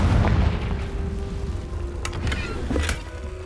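Confringo fire spell cast in a Harry Potter video game, a muffled low boom under background game music with a few sharp crackling bursts near the end.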